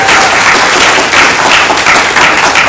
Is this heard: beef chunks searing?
no